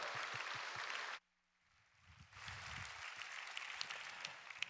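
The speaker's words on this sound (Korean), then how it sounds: "우리 하나님께 영광 돌리시고 뜨겁게 박수로 환영하겠습니다." A church congregation at a Korean Sunday worship service claps warmly, loud sustained applause that stops abruptly, followed by a quiet pause and then soft room murmur and rustling.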